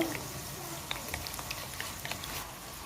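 Sliced onions frying gently in oil in a pan, a steady soft sizzle and crackle throughout with small pops, close and moderately quiet.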